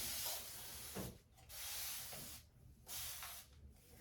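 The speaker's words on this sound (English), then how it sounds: "Sprayed it a little." A spray bottle mists sectioned natural hair, giving several soft, close hissing sprays separated by brief pauses.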